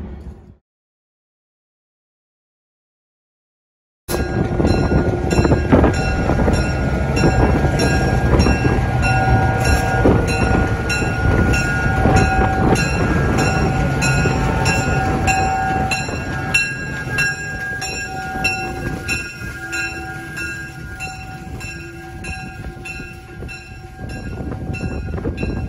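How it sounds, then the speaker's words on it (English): Silence for a few seconds, then a detached train rumbles steadily along the rails in Utah, with wheel clatter and faint tonal squeals continuing loudly throughout. "The train detached and is going to come around on those other rails"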